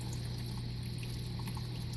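Water pours steadily into a tank, a continuous rushing and gurgling wash with a low pump-like hum underneath, constant level throughout.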